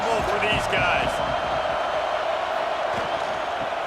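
Stadium crowd roar in the College Football 26 video game, a Texas State vs. Alabama matchup, rumbling as a steady broadband wash with a few brief whoops and thumps, under the game's commentary.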